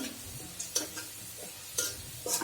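Okra frying in a pan while being stirred, a quiet sizzle with several sharp scrapes and clinks of a utensil against the pan spaced through a short stretch.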